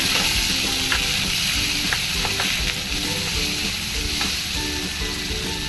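Tomatoes fry with onion, curry leaves and turmeric in a pan for sweet corn upma, a loud continuous close sizzle with occasional light stirring clinks, no talk.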